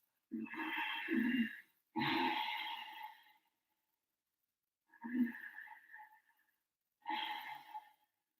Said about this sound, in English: use a breathing technique called the Ujjayi breath